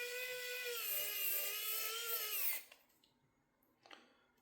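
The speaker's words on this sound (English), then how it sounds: "Line that up and put a couple screws in there that'll hold it in place." Small power screwdriver whirring steadily as it drives screws into a plastic 1/18-scale RC car trailer, a loud high whine for about two seconds that cuts off, then faint handling clicks.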